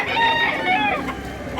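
Roosters crow loudly and close at a gamefowl sale in Consolacion, North Cebu, with overlapping drawn-out calls and clucking among penned chickens and a busy background murmur.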